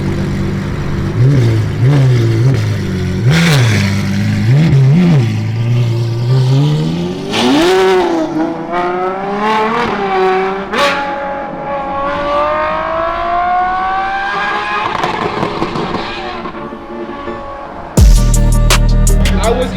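A Ferrari engine revving loudly up close, with repeated sharp throttle blips that climb into a long rising rev before dropping off, ending in a sudden loud burst.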